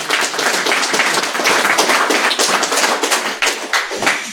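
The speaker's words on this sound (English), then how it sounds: "round of applause for Przemek" An audience at a hacker security conference talk claps for a presenter, a dense, steady burst of applause lasting several seconds with no voices over it.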